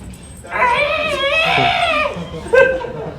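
A person vocally imitates a Godzilla mating call at a convention panel: a rising, wavering howl-like cry held for over a second, then a shorter yelp after a pause, loud and close.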